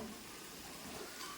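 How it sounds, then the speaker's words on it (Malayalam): Hot water poured into a simmering taro-leaf curry in a pan, a steady close sizzling hiss with faint bubbling, continuous and fairly quiet. "ഈ സമയത്ത് നമ്മൾ ചൂടുവെള്ളമാണ് ഒഴിച്ചു കൊടുക്കുന്നത് കേട്ടോ"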